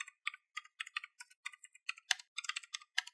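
Commands are typed on a computer keyboard in a steady run of crisp, close key clicks with uneven rhythm and no talking.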